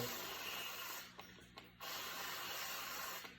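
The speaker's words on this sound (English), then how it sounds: "And I just spray a little bit more to kind of close up the hole." A spray bottle mists water onto the soil around a rose cutting in a cup, giving quiet, close hissing bursts, one long spray, a short pause with two faint clicks, then another steady spray.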